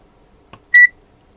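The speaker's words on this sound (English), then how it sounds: "one alarm" A ZOYI ZT-702S digital multimeter gives a single short, clear electronic alarm beep, preceded by a soft click, with quiet around it.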